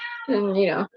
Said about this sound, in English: you hear that? That's my cat.